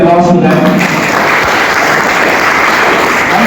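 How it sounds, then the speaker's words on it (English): An audience at a debate competition applauds loudly and continuously, a dense close clapping that keeps going under a brief voice at the start. "Please give you a great applause to them"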